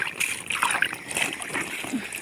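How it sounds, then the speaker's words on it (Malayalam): Water spilling over the rim of a lotus pot, a close, continuous splashing and trickling with small gurgles, steady throughout. "ഇങ്ങനെ വെള്ളം ഒഴുകി പോട്ടെ"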